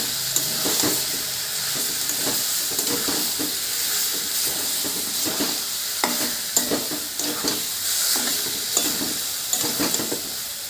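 Mushrooms, a village Bengal dish, stirred and sautéed in a hot pan, with a steady loud sizzle and hiss and repeated scraping strokes of a spatula throughout, no talking.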